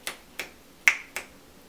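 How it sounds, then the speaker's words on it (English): Four crisp finger snaps close by in a steady, unhurried rhythm, each a sharp click with a quiet pause between. "You can use different gestures as snapping"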